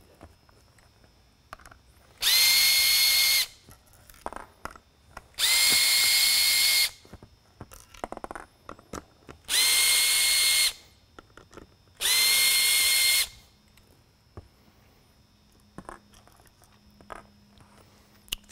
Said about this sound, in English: The four larger screws here are gonna go ahead and get removed.